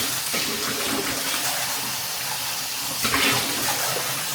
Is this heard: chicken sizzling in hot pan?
no